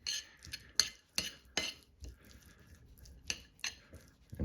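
Utensil clinks and scrapes against a container while stirring a June plum juice mixture, coming in short, irregular bursts that are close and fairly quiet.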